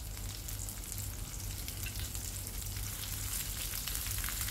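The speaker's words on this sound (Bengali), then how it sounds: "তেলটা গরম হয়ে যাওয়ার পর এখানে ভেন্ডিগুলো আমি দিয়ে দিচ্ছি।" Okra (ladies' finger) fries in hot mustard oil with a dense, constant crackling sizzle, heard close and alone without any talking.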